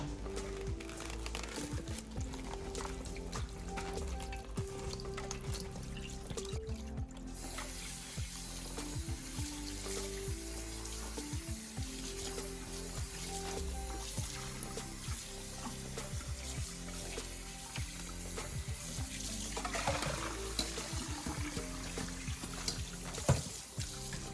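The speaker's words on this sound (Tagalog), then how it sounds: "hugasan lang natin itong beef feet bago pa nalambutin" Beef feet being rinsed under a running kitchen tap, with water gushing steadily into a sink and occasional clunks and handling noises throughout, no voices.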